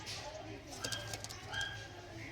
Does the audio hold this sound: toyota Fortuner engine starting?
no